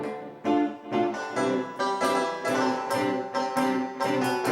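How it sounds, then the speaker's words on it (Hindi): A rabab is played live on a Pakistani television game show stage: bright plucked string notes in a lively, flowing rhythm with ringing tones, close and clear, without talk. "पानी बजाना रबाब जरा।"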